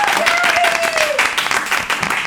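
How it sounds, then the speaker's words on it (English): Audience applause for a young girl being introduced on stage, a steady wash of clapping throughout with a bright tone gliding down early on and some talk mixed in. "Let's give a round of applause."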